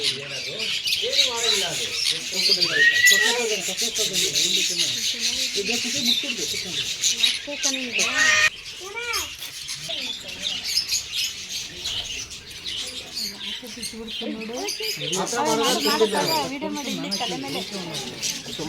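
Birds squawk and chirp loudly and continuously, shrill calls overlapping throughout, with people talking underneath.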